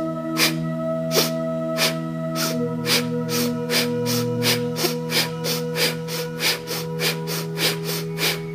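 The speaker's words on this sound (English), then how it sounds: "We'll now breathe a little faster and activate our breath of fire." Breath of fire, a rapid nasal breathing exercise: sharp, steady rhythmic exhales through the nose repeat about twice a second over a sustained droning tone, close and fairly loud.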